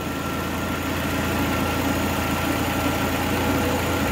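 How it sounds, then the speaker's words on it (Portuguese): Chevrolet Spin 1.8 engine with a fault and lost oil pressure, idling loudly up close with a steady, dense mechanical clatter and hum and no speech. "spin com barulho no motor"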